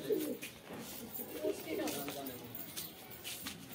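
Pigeons on a rooftop give soft, low, repeated coos nearby, with a person talking over and between them.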